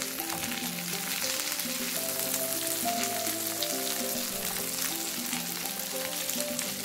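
Liver fries gently in a pan over low heat, a steady moderate sizzle with soft crackles and a faint ringing hum running underneath, no speech.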